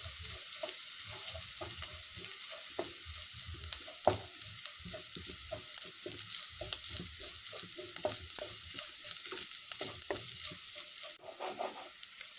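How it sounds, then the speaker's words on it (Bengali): Onion frying with ginger-garlic paste for Bengali egg curry gives a steady, close sizzle throughout, broken by scraping stirs of a spatula against the pan. "এবার এতে আমি আদা রসুন বাটাটাও দিয়ে দেব, দিয়ে এটাকেও ভালো মতো ভেজে নেব।"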